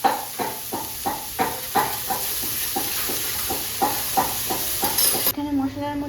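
Black pepper being pounded into powder in the background, a regular series of sharp knocking clatters roughly every third of a second, steady and moderately loud, ending abruptly.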